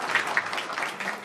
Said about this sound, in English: I'd like to get a round of applause for Councilman Aronica today